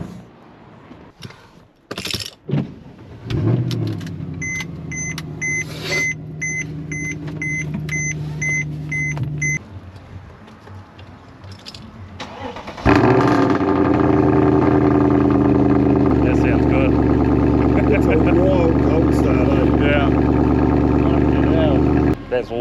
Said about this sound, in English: my stainless long tube headers and midsection exhaust for the C63 AMG